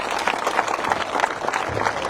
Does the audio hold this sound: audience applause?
yes